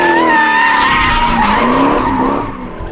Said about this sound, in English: he is out there killing tires right now